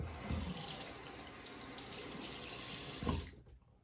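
Water from a bathroom tap runs steadily while a hand is rinsed beneath it during a straight razor shave, with a brief splash near the end before the flow stops.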